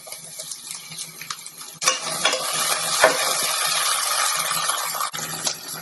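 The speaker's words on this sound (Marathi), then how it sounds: "कांदा गुलाबी झाला आहे आता मी त्यामध्ये टोमॅटो टाकते" Tomatoes tipped into onions frying in a pan, a sudden loud burst of sizzling that keeps up steadily at close range, with a few stirring scrapes and no talk.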